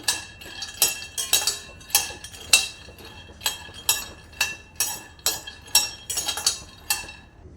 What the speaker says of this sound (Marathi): छान त्याची सालं तडकेपर्यंत आपण भाजून घेऊया शेंगदाणे